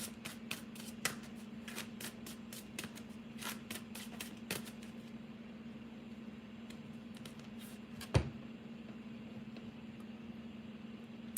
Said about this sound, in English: I just had to shuffle so I can get a little bit of information.